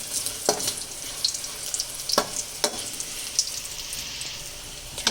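Red chillies frying in oil while snacks are prepared, a quiet steady sizzle broken by a few sharp crackling pops, close and with no talk.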